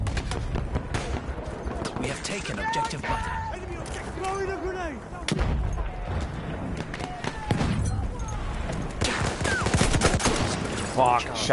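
Gunfire from a Battlefield 1 multiplayer match, bursts of shots and explosions running steadily throughout over busy battle noise, with game voice chatter mixed in.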